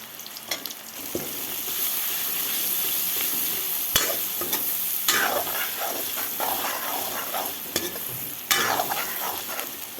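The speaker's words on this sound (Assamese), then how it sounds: "এতিয়া দিম মই আদা নহৰু পেষ্টখিনি।" Ginger garlic paste and cumin frying in a pan for an Assamese chicken curry, a steady loud sizzle throughout with occasional stirring scrapes and clinks close by.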